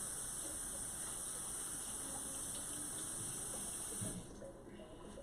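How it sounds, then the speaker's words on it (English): A kitchen tap runs as hands are rinsed, a faint, steady rush of water that cuts off near the end. "Rinse my hands again."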